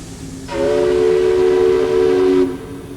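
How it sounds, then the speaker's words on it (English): A steady hiss with a high, sustained metallic squeal rising over it for about two seconds, then easing off, from a steam train standing still outside a house in falling snow. "From outside came the sounds of hissing steam and squeaking metal."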